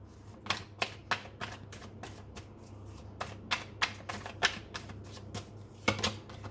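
Tarot cards being shuffled by hand produce a quick succession of crisp riffling flutters and soft slaps, close and fairly quiet, repeating in an irregular rhythm over a low steady background hum.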